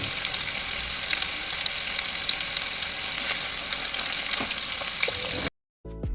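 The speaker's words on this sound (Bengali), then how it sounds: "তেলটা ভালো মতো গরম হয়ে যাওয়ার পর এক এক করে চামচের সাহায্যে চিকেনগুলো দিয়ে দিলাম" Coated chicken pieces fry in hot oil in a wok for dry chilli chicken, giving a dense, steady crackling sizzle close up, cut by a brief silent gap near the end.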